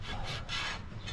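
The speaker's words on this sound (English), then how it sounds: "I've given it a good scrubbing with the good old Stilo and vinegar" Scrubbing a rusty cast iron camp oven with steel wool and vinegar, a steady close rasping rub that swells and eases in repeated strokes with no talking.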